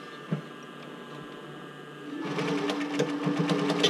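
Sewing machine stitching black elastic with white thread onto the slide of a swim top, starting after a quiet pause and running as a steady, close mechanical whir with rapid stitch ticks for the final two seconds.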